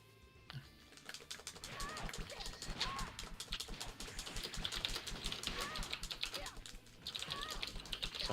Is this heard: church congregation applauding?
no